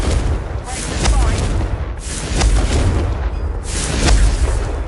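Confringo fire spell blasts in Hogwarts Legacy, a string of loud booming explosions roughly a second apart over a steady rumbling game soundscape.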